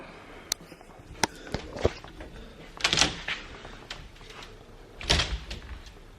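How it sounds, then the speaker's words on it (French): A cupboard door in a home is banged repeatedly, giving a series of sharp, irregular knocks and slams, with two heavier, rattling bangs standing out from the rest in a quiet room. "Non, tu vas casser la porte de placard."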